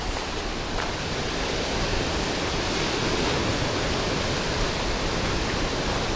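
Ocean surf rolls in as a loud, constant broadband rush, with no distinct individual wave breaks and no voices.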